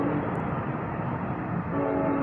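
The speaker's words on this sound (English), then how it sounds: "Hang on a minute, there's a train coming." A Brightline passenger train rushes past close by, a loud continuous roar of wheels and cars with a sustained horn blast sounding over it.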